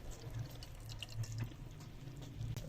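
A small amount of water is poured onto a plate while jaggery syrup for Punjabi maronda is being tested, giving a soft, quiet trickle with faint drips in a kitchen.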